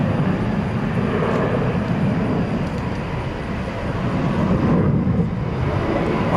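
An airplane at DFW Airport at night gives a continuous low engine rumble and roar, steady and fairly close, with no talking over it.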